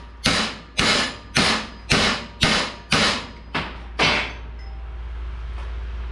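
Eight sharp metallic strikes ring out at an even pace, a small hammer hitting a steel axe, each blow loud and close, followed by a lingering low hum.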